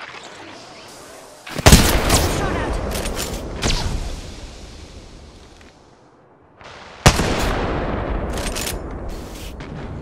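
Heavy video game gunfire and explosive impacts, two big blasts with sharp onsets followed by decaying rumble and scattered shots, loud and close.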